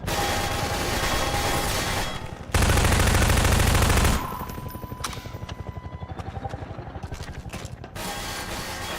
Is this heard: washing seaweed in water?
no